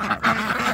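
A duck quacks up close as it is fed on a farm, with several loud, nasal quacks run together in a quick burst.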